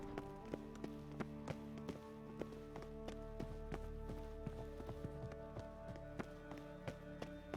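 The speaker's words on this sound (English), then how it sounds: "Footsteps." Footsteps in The Witcher 3, a steady run of sharp, evenly spaced taps over a low ambient hum, close and clear for the whole stretch.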